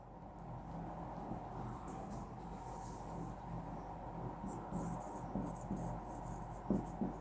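A pen or chalk scratches out working during a maths lesson on percentages, a quiet, uneven run of short strokes over a steady low hum, with a few sharper taps near the end.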